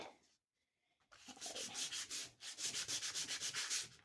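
Hand sanding with 80 grit sandpaper while building a book cover, heard as a brief scrape and then a run of quick, rhythmic back-and-forth rasping strokes, close and fairly loud, with no talk.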